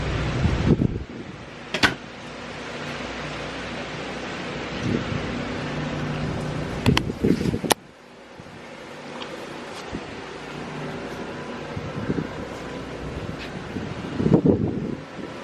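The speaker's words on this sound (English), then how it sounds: "Got some wind." Strong Hurricane Ida wind gusts roar and buffet the microphone, with a few sharp knocks and rattles, swelling and easing over the whole stretch; no voices.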